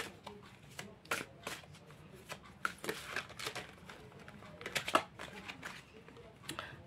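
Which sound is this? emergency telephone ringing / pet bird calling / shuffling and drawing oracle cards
shuffling and drawing oracle cards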